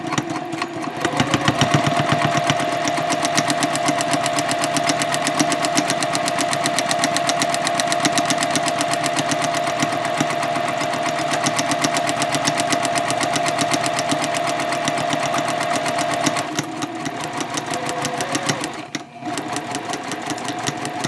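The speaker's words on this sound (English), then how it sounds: "Now I'm going to sew up the side of the bag with the same 1/4 of an inch seam" A sewing machine stitches the side seam of a fabric shopping bag at a quarter-inch seam with a 2.5 stitch length, running loud and steady at close range before slowing and stopping briefly near the end.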